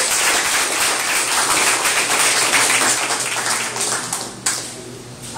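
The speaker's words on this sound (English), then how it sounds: "So with a warm and big round of applause, please welcome Ambassador Joe Wilson." An audience applauding to welcome Ambassador Joe Wilson at a Living Wage campaign event in Santa Fe County, a sustained crackle of many hands clapping, loud and close, slowly fading toward the end.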